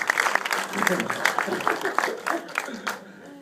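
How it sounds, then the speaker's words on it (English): A small audience gives a round of applause for Kofi Baker, scattered individual claps at a moderate level, uneven and sparse, with speech running alongside and the clapping fading out near the end. "can you give me a round of applause for Kofi Baker"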